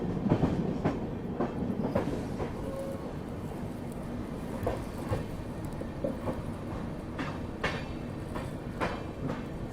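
Kolkata Pune Duronto Express rolling steadily, with a continuous low rumble and repeated clickety-clack wheel beats over rail joints heard from on board.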